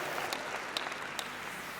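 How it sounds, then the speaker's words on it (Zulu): A church congregation applauds an honorable member of the National Assembly: faint, steady, distant-sounding clapping throughout, with a few sharper individual claps standing out. "Cela nimshayele ihlombe bazalwane"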